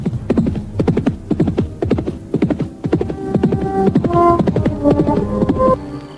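Horse hooves clip-clop in a steady, fairly loud rhythm as a radio drama sound effect, with a low hum and scattered tonal notes joining in the second half as the horse carries its rider home.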